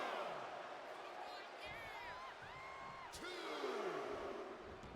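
Wrestling arena crowd cheering in WWE 2K25, a broad roar of spectators under ongoing commentary, with the crowd noise swelling slightly toward the end.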